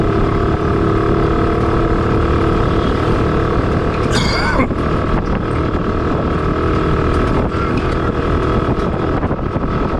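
Steady Yamaha RS100 two-stroke motorcycle engine drone running continuously at close range, with a brief burst of rushing noise partway through and wind buffeting throughout.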